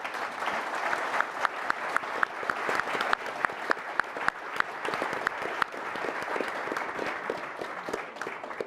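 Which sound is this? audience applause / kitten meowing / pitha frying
audience applause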